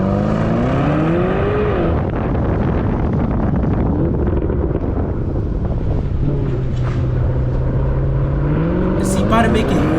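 A car engine revs on a busy New York street, rising and falling roars under gusty wind noise on the microphone, with people talking over it.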